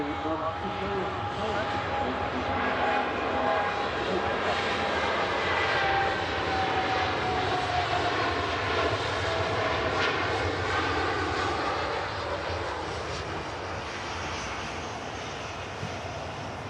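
A Tui Dreamliner jet takes off at Manchester Airport, its engines a long, steady roar with a slowly shifting whine as it passes in the distance, while a person talks over it.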